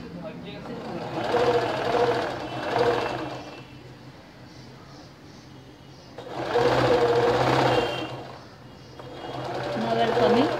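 A sewing machine stitches piping along the neck slit of a kurti in two loud bursts of running stitches, separated by a quieter pause, with someone talking throughout.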